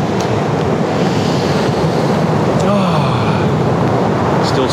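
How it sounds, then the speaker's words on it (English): Ocean surf washing onto a Pembrokeshire shore in stormy weather, a steady broadband roar with wind buffeting the microphone throughout, close and continuous. "It's nice just to hear the waves crash behind me."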